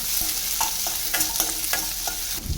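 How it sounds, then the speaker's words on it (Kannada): Chopped onions fry lightly in hot oil with cumin seeds, giving a constant close sizzle broken by quick scraping stirs of a spoon across the pan. No voices are heard. "ಕಟ್ ಮಾಡಿಟ್ಟಿರೋ ಈರುಳ್ಳಿ ಲೈಟಾಗಿ ಫ್ರೈ ಮಾಡ್ಕೊತಾ ಇದ್ದೀನಿ"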